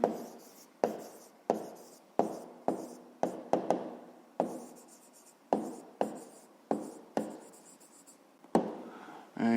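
A pen writes by hand on paper while working a fifth-grade math exercise, making a series of close, distinct scratchy strokes with short pauses between them, quiet and alone.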